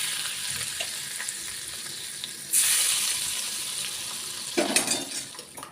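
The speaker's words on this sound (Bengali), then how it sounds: "এবার আমি ফুটিয়ে নেওয়া তেলটা এর মধ্যে দিয়ে দিচ্ছি।" Hot oil poured over a Korean-style noodle sauce of seasonings and fried white sesame seeds, giving a steady sizzle that flares up sharply partway through and surges again near the end, close and fairly loud with no talking.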